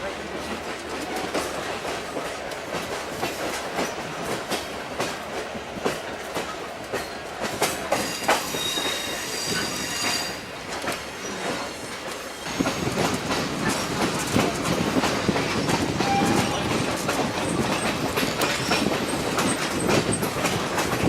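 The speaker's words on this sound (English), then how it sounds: "The train's coming pretty soon." An excursion train on a spring vacation in the Smokies passes on its rails with steady clickety-clack and occasional wheel squeal. The sound is moderately near and grows louder and fuller partway through.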